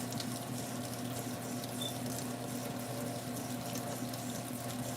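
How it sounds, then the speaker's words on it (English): Grits being rinsed in a bowl of water, a steady continuous watery wash and patter with faint splashing, close and alone without speech. "I'm gonna give it one more good rinse for my grits"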